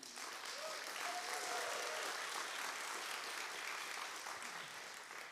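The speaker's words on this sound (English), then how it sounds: "can we give a warm round of applause to all our sponsors" Warm audience applause for sponsors at a summit, dense continuous clapping from a sizable crowd sustained for over five seconds, with faint voices beneath.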